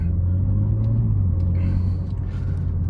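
A 2021 BMW G80 M3 Competition cruising on a road in Norway, its engine a steady low rumble heard from inside, with no talking.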